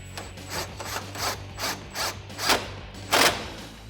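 A 13mm ratchet snugs up headlight bolts on a 2015-2022 Mustang, giving a series of about eight quick clicking bursts at a steady rhythm, close and fairly quiet, with no talk.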